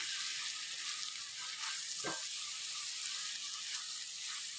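Bitter gourd curry frying in oil with tomatoes in a pan, a dense, steady hiss of sizzling that stays loud and even throughout, with one brief scrape partway through.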